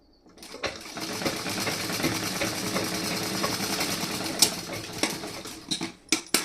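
A sewing machine runs basting stitches on sleeve pieces of a garment, a fast continuous whirring at close range that stops, then returns in a few short bursts near the end.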